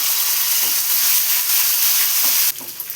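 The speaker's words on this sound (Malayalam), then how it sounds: "ഇപ്പോൾ മുന്തിരിയും കൂടെ ഫ്രൈ ആയി വന്നിട്ടുണ്ട്." Cashews and raisins frying in ghee for adapradhaman, a steady dense sizzle that runs close and loud before dropping sharply into softer, spattering crackles near the end.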